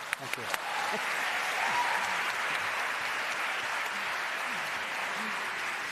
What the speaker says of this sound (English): And let us give them an applause.